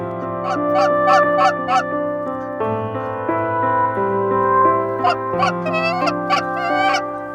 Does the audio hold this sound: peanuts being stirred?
no